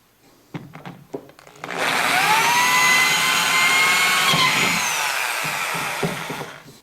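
A power drill bores two holes in wood for a circular saw jig, starting with a few short clicks and handling noises, then a sustained loud whining drone as the bit cuts before spinning down.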